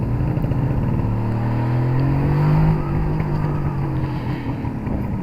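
A Suzuki GT750A motorcycle engine runs steadily on the road with a dense, rumbling drone, its pitch rising briefly about midway and then settling, loud and close with no talk over it.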